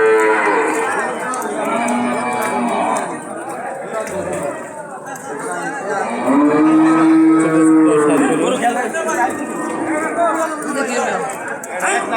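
Cattle at a rural cattle market, including a red bull, giving a loud drawn-out moo over a busy crowd, with people talking continuously nearby.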